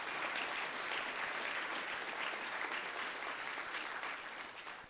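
An audience at a city government's State of the City address breaks into steady applause, a dense sustained clatter of clapping that fades slightly at the end.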